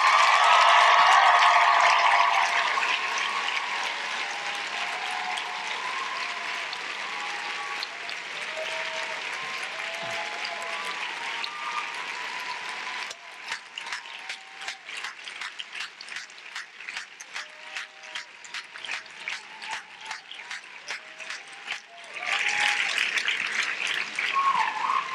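Sustained applause from graduates standing and turning toward the audience at a 2014 commencement ceremony, dense and steady at first, thinning into scattered individual claps, then swelling again near the end.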